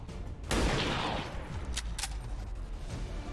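A gunshot rings out in XCOM 2, a sharp loud report followed by a rumbling tail, with a couple of brief crackling impacts trailing after it.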